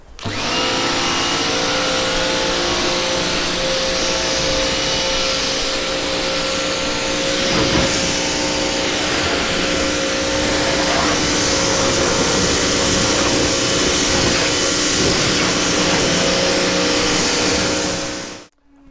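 Steady, loud pressure washer spray rinsing foam off the paintwork of an Audi R8, a continuous high-pressure hiss and motor drone running nearly nineteen seconds without talk.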